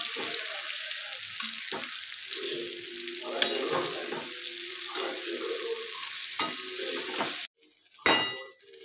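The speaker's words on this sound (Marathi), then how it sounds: "मग मसाला टाकला की तळला पाहिजेत ना छान" Brinjal curry with masala frying in a pan, a steady sizzle with several sharp clinks of a spoon stirring against the metal, running throughout and dropping away near the end.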